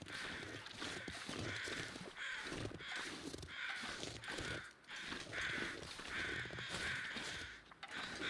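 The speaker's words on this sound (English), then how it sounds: "There are birds. Why do we have birds?" Crows cawing repeatedly in the video game The Long Dark, a steady series of harsh calls, fairly close, over a continuous outdoor background with faint rustling.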